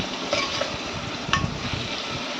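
Tomatoes and potatoes sizzle and hiss in a hot pan while a utensil scrapes and stirs, a couple of light clinks in between.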